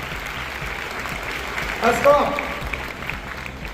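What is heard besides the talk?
loud applause by the audience for On The Way Foundation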